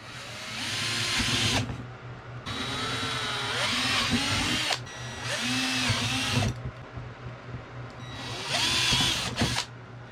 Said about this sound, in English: I'm going to go ahead and drill these holes out and get these brackets put on